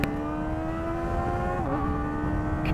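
Kawasaki ZX-4RR motorcycle fitted with a Yoshimura AT-2 exhaust holds a high, steady engine whine heard from close by, dipping briefly partway through before settling again, with no talking.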